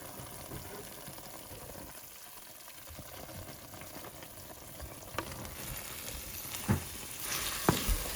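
Prawns going into a hot pan of curry on medium heat for a Konkani prawn and mango curry, with steady sizzling and frying hiss broken by a few sharp clinks near the end, no talking.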